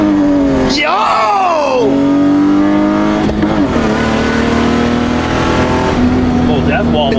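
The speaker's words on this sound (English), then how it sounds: "I want you to shift to like first to third. And I want to feel this thing." Stock BMW E36 engine revving up through the gears from first toward third, the pitch climbing and dropping at each shift, loud and close from inside the car, with a brief shout from an occupant.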